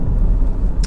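A Honda CR-V 2.0 i-VTEC EX automatic 4WD pulls away, giving a close, loud, steady low engine rumble with a slight swell, heard alone.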